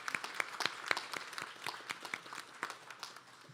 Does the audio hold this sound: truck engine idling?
no